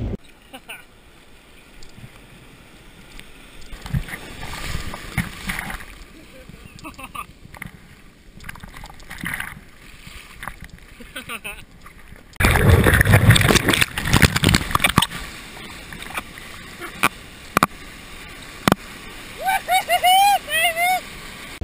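Surf whitewash churns and splashes around a swimmer, loud broadband rushing bursts from about the midpoint, preceded by quieter water and wind noise, with a few brief tonal chirps near the end.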